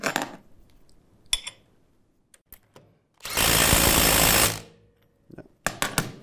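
A Bosch GDS 18V-450 HC cordless impact wrench tightens in Mode A: one loud, sustained hammering burst of about a second, set between scattered sharp clicks and handling knocks.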